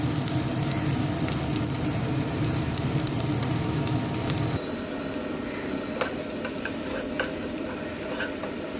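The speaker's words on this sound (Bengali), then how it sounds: "আমি একটা বড় পেঁয়াজকেও কুচি করে নিয়ে প্রথমে ছেড়ে দিলাম তেলের মধ্যে" Chopped large onion sizzles in hot oil, a dense, steady frying hiss with occasional stirring scrapes; the sizzle drops to a quieter level partway through and continues alone.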